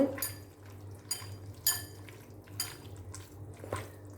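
Squid pieces tossed with spice masala, ginger-garlic paste and lemon juice in a bowl, heard as soft, faint, irregular wet squelches and light clinks of the bowl, close by, with no talking.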